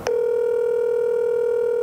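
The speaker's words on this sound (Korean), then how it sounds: "한번 전화를 해보겠습니다." A single steady phone tone sounds while a call is placed to a keto restaurant, starting with a short click and holding at an even level throughout.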